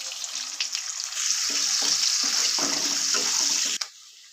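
Chopped onions frying in oil in a wok, a loud hiss that swells as they go in, with bubbling crackle, then drops off abruptly near the end.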